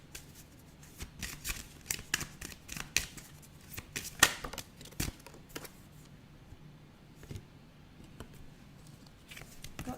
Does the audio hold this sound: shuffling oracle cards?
yes